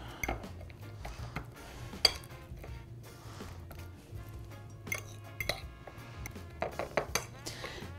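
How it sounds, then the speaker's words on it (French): A metal fork mashes ripe bananas in a bowl, with irregular clinks and scrapes against the dish, close and fairly quiet, some sharper taps standing out. "Bon, je vais écraser ça à la fourchette."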